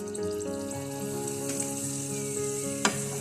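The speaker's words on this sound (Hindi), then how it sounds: "और इसी तरीके से फ्राई कर लेंगे।" Mutabbaq, a Saudi street-food pastry with onion, sizzles steadily in a tablespoon of oil in a pan, a constant close frying hiss with one sharp crackle near the end, under no talk.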